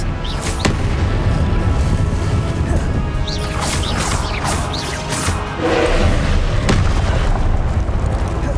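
Loud fiery spell blasts from the Hogwarts Legacy video game, the Confringo curse, bursting repeatedly in quick succession with crashing booms and crackling debris over a dense, continuous roar of game combat.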